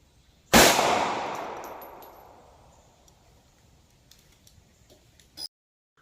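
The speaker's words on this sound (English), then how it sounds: "I'm going to take a shot of the Hydra Shok Deep with the LCP2 with no barrier into clear ballistics." A Ruger LCP2 .380 pistol fires one Hydra Shok Deep round into clear ballistic gel, a single sharp, loud report that rings out and decays over a couple of seconds, followed by a faint click near the end.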